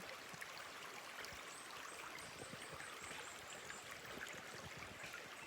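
Stream water flows steadily through an outdoor natural spot with birds around, a soft, continuous trickling wash that stays faint and even throughout with no talking.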